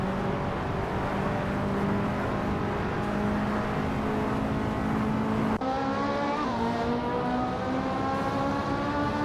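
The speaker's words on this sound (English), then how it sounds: "Dark Viam is driving a Lamborghini Murcielago SV." A Lamborghini Murcielago SV races in a video game, its engine droning steadily with rising harmonic tones and a sharp shift midway, followed by a higher, climbing engine note.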